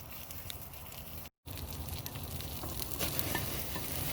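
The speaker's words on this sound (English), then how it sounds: "as soon as you get them on the grill and you get them all lined up, just start putting your butter on there" Oysters on a grill hiss and sizzle steadily as butter is brushed over them, close and fairly loud, with one brief cutout early on before the crackle resumes.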